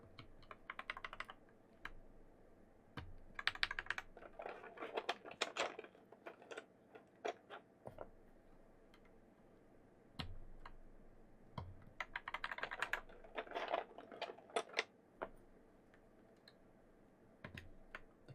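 Mechanical keyboard with a thocky sound being typed on: quick bursts of soft, deep clacks separated by pauses, with occasional heavier single strokes, close and fairly quiet, with no talking.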